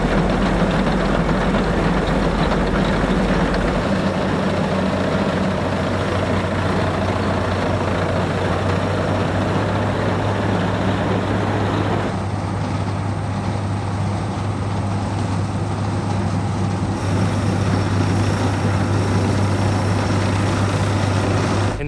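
A tractor engine runs steadily with a hay mower connected on its driveshaft, a continuous low droning rumble at close range with no pauses, shifting slightly in tone partway through.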